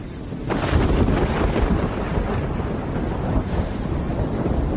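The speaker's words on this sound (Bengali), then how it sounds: "প্রথমে শো শো শব্দে প্রচণ্ড বাতাস বইতে লাগলো, আর তারপর তা মারাত্মক ঝড়ের রূপ নিল" Storm effect for a spoken story: a howling gale with deep rumbling thunder, a dense continuous roar that swells and stays loud throughout, with no voice over it.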